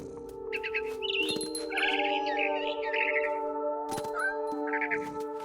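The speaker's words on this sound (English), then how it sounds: "I heard chirping outside my window. It was a barn swallow going back to her nest." A barn swallow in What Remains of Edith Finch chirps outside a window in a few short, bright bursts of calls scattered across the clip, over a steady tonal hum.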